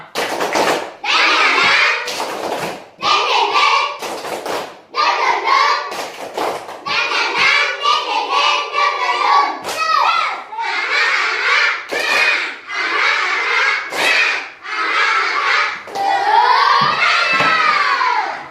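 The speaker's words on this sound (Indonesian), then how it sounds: "Kita pasang tangan tepuk semangat." Schoolchildren in a classroom do a rhythmic spirit clap, bursts of sharp hand claps alternating with loud chanted voices in a patterned beat, with shouting throughout.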